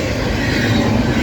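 A CSX intermodal freight train passing through thick fog on the New Castle Subdivision, a loud, steady rolling rumble of wheels on rail that stays constant throughout.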